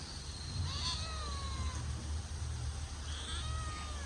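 Several cats meow at a rural Gujarati home in the morning, two rising, drawn-out cries near 1 and 3.3 seconds over a steady low hum of background noise.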